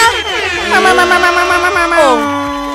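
A loud, blaring horn sounds on a radio broadcast with several sustained tones that shift pitch, sliding down at the end, over a low rhythmic backing.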